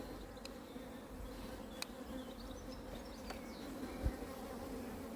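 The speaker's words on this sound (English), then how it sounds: "into the brood box, plenty of bees in here" A steady, close hum of honeybees fills an open brood box during a hive inspection, with soft knocks and handling noises now and then.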